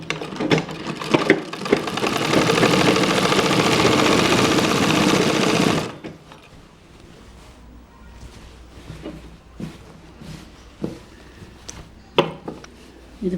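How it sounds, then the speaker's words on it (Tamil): A sewing machine stitches a gathered wrinkle pant, running steadily and loudly for several seconds before stopping, followed by quieter clicks and handling sounds. "அதே மெத்தடுக்கு வச்சுட்டு ப்ரெஸ் தையல் போடணும்."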